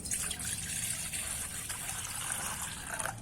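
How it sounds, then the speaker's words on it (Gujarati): Water poured into a vessel to wash raw mango pieces and gunda berries for pickle, a continuous close trickling and splashing stream with faint gurgles throughout. "આપણે એક વાસણમાં પાણી નાખીશું"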